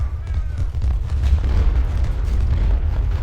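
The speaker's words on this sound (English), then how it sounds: "we're able to disrupt some of this cannon fire now." Cannon fire from an American Civil War battle in the strategy game Ultimate General: Civil War, heard as a dense, continuous rumble of low booms and bursts with no clear gaps, loud and steady throughout.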